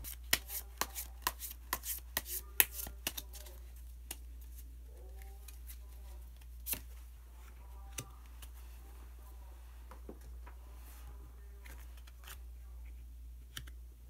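A rapid flurry of crisp tarot card shuffling and clicks in the first few seconds, then sparser taps and slides over a low steady hum.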